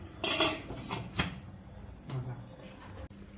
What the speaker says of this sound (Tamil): நம்ம இப்போ அதை மூடி வைக்க போகிறோம்